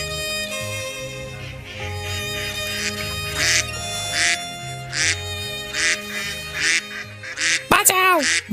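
Cartoon ducks quack and honk in repeated loud bursts over a background music track, with a sharp squeaky sound effect near the end.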